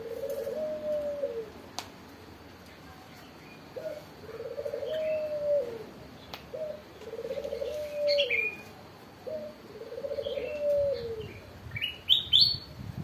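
A young zebra dove, under a year old, repeats its soft cooing call four times at steady intervals, with brief chirps from other birds in the background.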